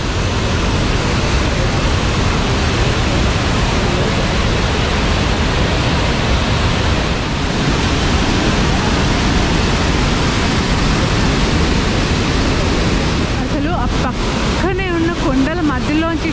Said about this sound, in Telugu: but it is so nice to see this water fall